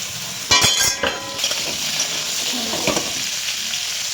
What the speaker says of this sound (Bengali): ওগুলো এবার আমি আলুটা ছেড়ে দিচ্ছি।